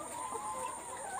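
Laying hens on a poultry farm cluck steadily in a brief burst, with a constant hum of farm background underneath.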